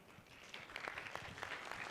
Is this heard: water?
no